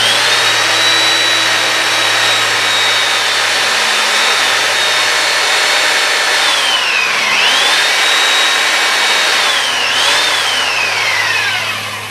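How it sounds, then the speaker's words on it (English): Belt sander running loud and close while smoothing a longboard skateboard part, a continuous high whine that dips in pitch several times as the piece is pressed against the belt, no voices. "And then to clean this up real quick, I use the belt sander again."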